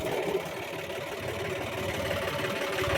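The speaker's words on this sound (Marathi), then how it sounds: "ट्रॅक्टर आहे 5210 गेअर प्रो" A 5210 GearPro tractor engine running at a steady idle, a low continuous drone close by with no talk over it.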